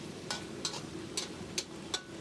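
Ginger and green chilli paste frying in a pan, a soft sizzle under five quick scraping strokes of a stirring spoon at an even rhythm, faint and close.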